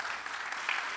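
Audience applause greets a performer being introduced on stage, a steady, dense wash of clapping that holds for the full second with a brief swell near the end.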